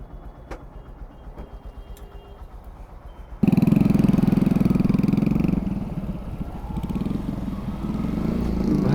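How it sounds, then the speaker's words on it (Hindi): A motorcycle with a loud aftermarket silencer roars up close after a quiet stretch, its rough, throbbing exhaust note holding steady and then rising again. "भाई ने बाइक पे सलेंसर तो तगड़ा लगाया है"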